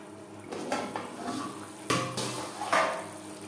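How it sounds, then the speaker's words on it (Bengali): Spices being stir-fried in a pan over low to medium flame for a Bhola fish curry, with a steady sizzle, a spatula scraping and clattering against the metal, and a few louder clanks. No one speaks. "মশলা কষাবো লো টু মিডিয়াম ফ্লেমে।"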